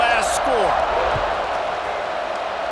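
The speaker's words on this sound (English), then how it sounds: "this crowd is buzzing after that last score" A stadium crowd in EA Sports College Football 26, a dense, steady roar throughout, heard under a commentator's voice.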